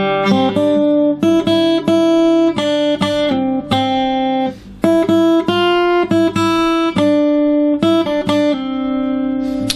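Acoustic guitar picking a basic single-note melody, close and clear, a steady run of plucked notes with brief gaps and sustained final note.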